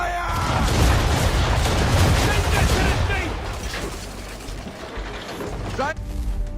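Ship cannons boom in a broadside during a naval battle in Assassin's Creed III, a dense roar of rumbling fire and crashing that fades out after a few seconds, with a voice calling orders over it.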